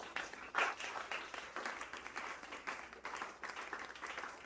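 A church congregation applauding the Lord during a French-language sermon, with steady, moderately distant clapping from many hands that carries on evenly throughout.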